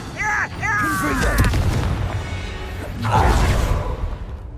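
A Confringo fire spell bursts in Hogwarts Legacy combat: a voice shouts first, then a loud, broad explosive blast with a rushing tail follows about two seconds later.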